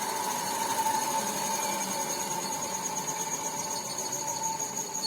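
A DC shunt motor being stopped by plugging, with its direction reversed, gives a steady close mechanical whine and hum that holds throughout at an even level.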